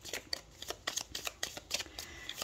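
Tzigane oracle cards being handled and shuffled close by, a quick run of soft papery flicks and snaps in an irregular rhythm, quiet and alone.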